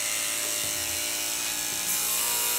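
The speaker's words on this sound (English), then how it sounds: "spray it right on your blade while your clippers are on" Running electric pet grooming clippers buzz steadily and close up while spray cleaner is applied to the blade, a brief burst of hiss joining the motor hum near the end.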